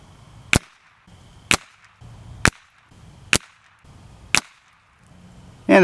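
Five loud, sharp rifle shots from a Stevens 22/410 fired at a 50-yard target, evenly spaced about a second apart outdoors, each a crisp crack with a short decay, with a brief noise at the very end.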